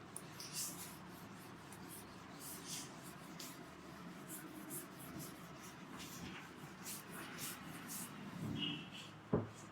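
Chalk or a pen writing on a board during a maths lesson makes faint, steady scratching and tapping strokes close by, with a brief knock near the end.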